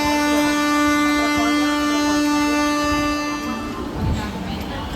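Loud steady rumble inside a moving passenger train, with a sustained horn-like tone for the first few seconds before it drops away, leaving rattling carriage noise.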